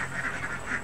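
Ducks at a feeding spot near a home pen give a steady run of nasal quacks and honks, close and continuous for under a second with no talk.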